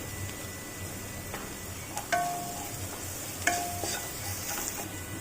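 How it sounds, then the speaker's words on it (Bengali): Vegetables sizzle steadily in a pan with rock salt and turmeric for a fasting-day sabudana pulao, a soft continuous frying hiss broken by a couple of brief stirring clinks up close. "খানিক্ষণ ভেজে নেব যতক্ষণ না পর্যন্ত সবজিগুলো ভালোভাবে সিদ্ধ হয়ে যাচ্ছে"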